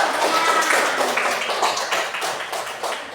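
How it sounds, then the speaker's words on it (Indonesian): Classroom of students in an Arabic lesson clap their hands together, a brisk, somewhat uneven patter of many small hands close by, fading slightly toward the end. "Oke, tepuk tangan dulu."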